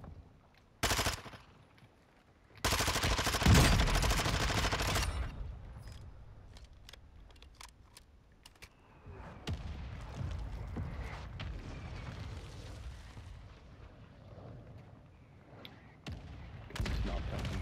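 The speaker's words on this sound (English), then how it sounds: "Friendly mortar strike inbound." Friendly mortar strike in a video game, several loud booming blasts in bursts with scattered sharp impacts and rumble between, fairly close and heavy.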